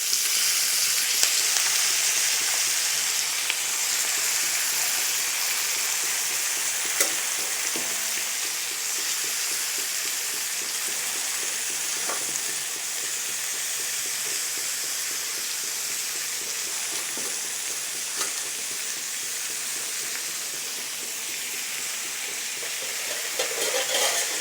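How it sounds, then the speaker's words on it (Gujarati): Tandalja bhaji greens added to hot oil sizzle in a steady, loud hiss that fills the whole stretch, with faint scrapes of stirring scattered through it. "તેમાં ભાજી ઉમેરીશું."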